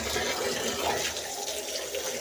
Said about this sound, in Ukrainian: Набираємо воду напряму зі скважини.